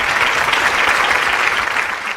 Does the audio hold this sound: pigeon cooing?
no